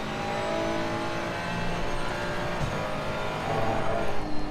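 Ferrari 296 engine in Assetto Corsa Competizione around Kyalami, a loud continuous drone that rises under throttle with steady revving and no talk.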